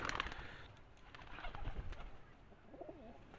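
Breeder pigeons kept on a rooftop loft coo softly and repeatedly, low throaty calls heard nearby over a faint, steady background.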